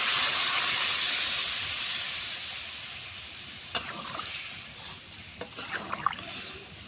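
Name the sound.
fish curry with potato and drumstick stems boiling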